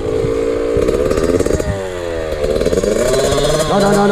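A Yamaha YZ65 motorcycle engine runs close by, its revs rising and dipping unevenly through the whole stretch as if blipped under load, with no talk over it.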